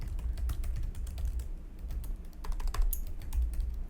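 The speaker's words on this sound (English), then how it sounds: "I'm typing in Google" Someone types on a computer keyboard nearby, with irregular bursts of clicking key presses that come and go over a few seconds and no voices.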